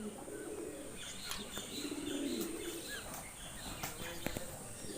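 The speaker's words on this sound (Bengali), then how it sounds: "দামি দামি কবুতর ময়ূর আছে।" Pigeons coo in a low, soft murmur amid faint chirps and ambient outdoor noise at a shrine compound in Faridpur, where peacocks are also kept; steady, moderately near, no talking.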